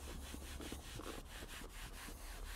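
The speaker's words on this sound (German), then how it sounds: "tupft hier etwas auf die Oberfläche auf und dann reibt ihr das gleichmäßig" Leather sealant being rubbed by hand onto a light-colored leather car seat, a faint, continuous scrubbing swish repeating in quick even strokes.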